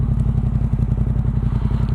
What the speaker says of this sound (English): Listen to that Arrow exhaust.